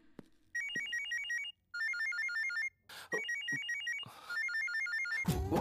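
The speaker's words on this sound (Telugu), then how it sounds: "అందరూ ఫోన్ రింగ్ వినే కదా తిరిగి చూసారు." A mobile phone ringtone plays in a classroom: bright electronic melodic phrases repeat in bursts separated by short gaps, with a few soft knocks and a rustling thump at the end.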